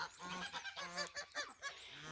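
A group of geese honk and cackle over one another nearby, a busy, uneven chorus of calls.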